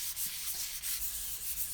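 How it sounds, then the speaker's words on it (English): Close, soft scratching of sandpaper worked across motorcycle fork outer tubes, in a few irregular strokes over a steady hiss, alone and quiet. "I prepped the surface by sanding the outer tubes,"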